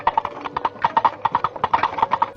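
Coconut shells knocked together by a Foley artist to imitate a galloping horse. Close, crisp hollow clops fall in a quick, uneven gallop rhythm that repeats for a couple of seconds.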